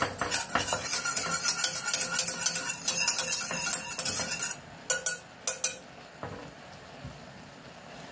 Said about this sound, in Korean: 찹쌀풀 두 큰술을 그냥 해가지고 그래서 바로 저어주세요